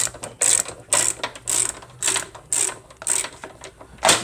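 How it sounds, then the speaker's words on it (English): A ratchet wrench with a 10mm socket loosens a tensioner nut on a Monster Moto 1000 minibike, giving about eight close, quick bursts of clicking in a steady rhythm with short pauses between strokes. "use your 10mm socket to loosen up the tensioner bolt back here, or the nut"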